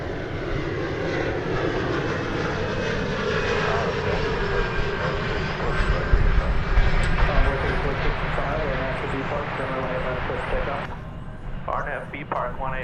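A Lufthansa Airbus A340 or A330 airliner arriving from Frankfurt at DFW Airport roars with a loud, steady engine rush that fades near the end, under ongoing talk.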